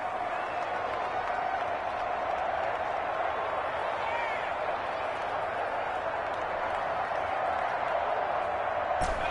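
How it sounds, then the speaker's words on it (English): Crowd noise at a football stadium before a big third down: a steady, distant roar of cheering and murmuring fans that stays level throughout, under the commentators' talk. "The crowd getting into it as we come up on a big third down."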